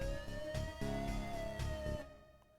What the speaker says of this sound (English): Need to switch on the siren and give chase.